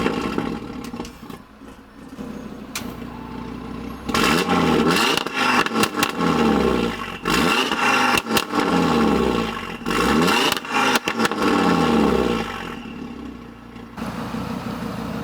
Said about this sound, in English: So you guys can see how loud this thing is, even on the warm start